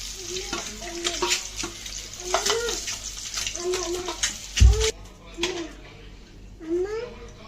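Onion pieces sizzling and frying in a pan for a masala egg fry, a steady crackle with stirring clatter underneath while someone speaks.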